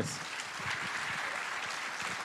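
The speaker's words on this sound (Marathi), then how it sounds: "जोरात टाळ्या वाजवूयात" An audience at a memorial lecture event claps steadily and loudly throughout, a dense continuous applause.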